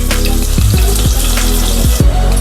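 Onions go into hot oil with curry leaves and ginger-garlic paste for a Nellore-style brinjal milk curry, giving a loud, steady sizzle up close with a few brief clatters from a spoon or pan.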